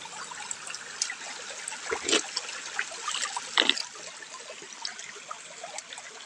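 Mountain spring water trickles and splashes in a soft continuous flow, with a couple of louder splashy gurgles partway through and no talking.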